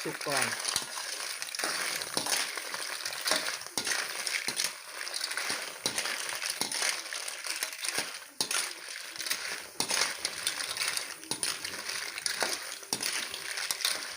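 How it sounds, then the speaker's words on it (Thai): Clams dry-roasting in a dry wok with no oil, giving a steady crackling, sizzling clatter of shells stirred against the hot metal, with faint scraping knocks throughout at moderate level. "ๆเราก็เริ่มคั่วหอยก่อนนะครับ"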